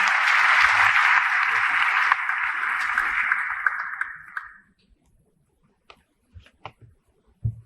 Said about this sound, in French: Merci à Philippe et belle applaudissement pour lui.